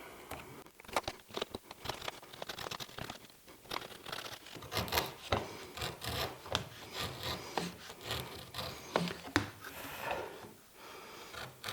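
A hand tool recuts along a scribe line in wood for a segmented ring, making a continuous rasping scrape of repeated strokes, close and moderately quiet, with no voices.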